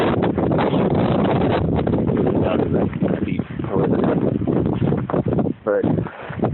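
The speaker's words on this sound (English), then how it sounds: "That wind kicks up, so it's actually cold." Cold wind during a snowstorm batters the microphone in a loud, continuous roaring buffet, with brief dips where the gusts drop out near the end.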